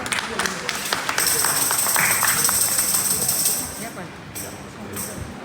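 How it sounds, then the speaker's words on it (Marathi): A church congregation claps together to welcome nurses on Nurses' Sunday, a dense wash of applause swelling for a few seconds and then fading, with talk over it. "आपण टाळ्या वाजवून त्यांचं स्वागत करूया."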